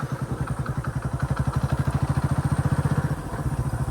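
A motorcycle engine chugs steadily nearby on a rain-soaked farm track, its fast, even thumping pulse running throughout without pause.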